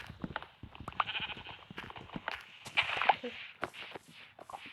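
Sheep bleat in Minecraft's blocky farmland, with several short nasal calls spaced across the moment over soft game ambience and footstep-like shuffling.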